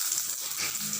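Green chili, cinnamon, cloves and bay leaf hit hot oil for a chicken kurma, a bright, close frying sizzle that holds steady through the short moment.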